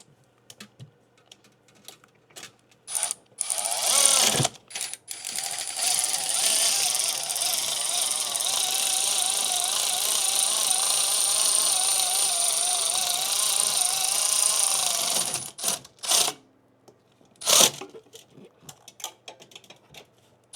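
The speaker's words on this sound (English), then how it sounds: "now we're going to drive the 4 bolts, 4 e-torques" A power driver runs four E-Torx bolts into the bottom bracket of a catless downpipe on a Mercedes C63S, a steady whirring drive of about ten seconds framed by short bursts and clicks before and after.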